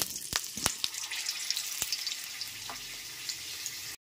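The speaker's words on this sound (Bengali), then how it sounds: "এরপর হাফ করে কেটে রাখা আলুগুলোকে দিয়ে দিচ্ছি" Halved potatoes drop into hot oil and sizzle steadily, with a few sharp splatter pops near the start, the frying hiss continuing close and moderately loud before cutting off abruptly.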